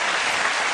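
A brief, dense burst of clapping fills a radio studio for under a second, loud and close.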